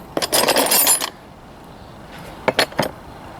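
Metal spanners clink against one another in a short burst while someone rummages for one that fits a loader's controls, then a few separate sharp taps follow after a pause.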